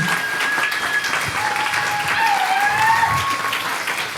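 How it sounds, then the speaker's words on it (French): A live audience applauds loudly and continuously, a dense wash of clapping with some cheering and whistles that holds steady throughout. "Faites un maximum de tonnerre, d'orage, de hurlements, d'applaudissements pour Jacob et toute son équipe"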